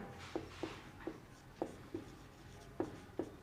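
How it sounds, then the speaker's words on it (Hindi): Chalk or marker tapping and scratching on a board as a heading is written, with about nine short sharp strokes in an uneven rhythm, close and fairly quiet over a low room hum. "यहाँ पे मैं हेडिंग लिख दे रहा हूँ"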